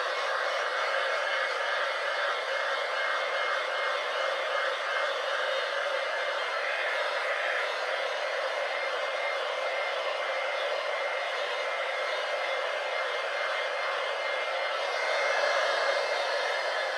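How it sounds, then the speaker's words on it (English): A heat gun blows a steady, loud, unbroken whoosh while warming an epoxy coat over glitter in a craft project, running alone for the whole stretch with no talk. "I'm going to warm it up a little bit with my heat gun."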